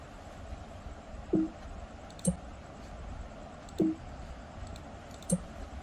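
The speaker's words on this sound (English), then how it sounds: "When DFU is successful, then I need to click here." Mouse clicks on a computer during iPhone 7 DFU-mode setup, four sharp isolated clicks spaced about a second apart over a steady background hiss, close and fairly quiet.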